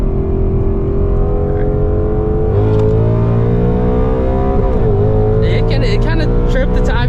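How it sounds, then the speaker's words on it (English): Tuned E85 Ford Mustang GT S650 with a 10-speed transmission accelerating hard in second gear and briefly spinning a tire. The engine note is loud and close and rises steadily, dips with a shift, then climbs again while people talk inside the car. "It kind of tripped the tire. I mean, it did spin the tire a little bit."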